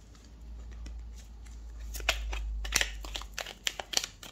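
A deck of tarot cards being shuffled and cut by hand: crisp riffling flicks and slaps that grow busier and louder toward the end, heard close over a low steady hum, with no voices.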